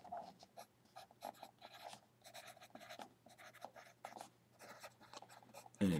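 A pen writes a book title by hand into paper notes, giving a series of short, soft scratching strokes with small pauses, close and quiet, then a louder bump at the very end.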